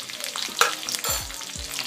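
Green chilies, garlic and cumin sautéing in hot oil, a close, crackling sizzle with a few sharper pops and low scraping stirs of a spoon in the pan, with no talk.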